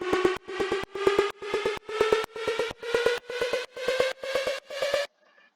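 A riser sound effect in an electronic dance music drop. About eleven evenly spaced synth pulses creep upward in pitch, then it cuts off sharply, leaving a faint tail.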